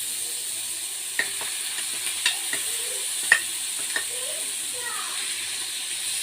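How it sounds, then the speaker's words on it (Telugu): Grated beetroot fries in hot ghee in a pan. A soft, steady sizzle carries on throughout, broken by a few light clinks and scrapes of stirring. "నెయ్యి బాగా వేడెక్కిన తర్వాత దాంట్లో ముందుగా తురుము పెట్టుకున్న బీట్రూట్ని యాడ్ చేయాలి."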